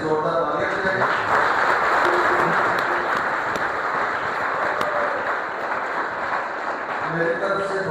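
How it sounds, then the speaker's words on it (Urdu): A church audience breaks into loud, sustained applause for a volunteer, a dense wash of many hands clapping steadily for several seconds, with a voice briefly heard at the edges. "میں چاہوں گا کہ ان کے لیے زوردار تالیاں دیں"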